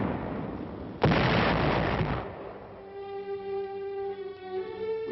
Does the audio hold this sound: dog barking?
no